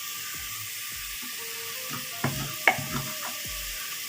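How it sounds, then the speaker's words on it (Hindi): Onions browning in a frying pan for a mixed vegetable dish sizzle steadily while a spoon stirs them, with scattered scraping clinks and a few louder knocks against the pan, close and alone without talk. "अभी हम इसको थोड़ी देर फ्राई करेंगे। प्याज तकरीबन हमारे ब्राउन हो चुके हैं।"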